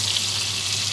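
Flour hitting melted butter in a frying pan gives a brief, steady, close sizzling hiss with no talking.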